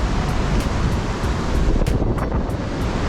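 Powerful rushing river water at the Niagara River's Stone Flats near Whirlpool State Park, a steady, dense roar with wind buffeting the microphone throughout and no voices.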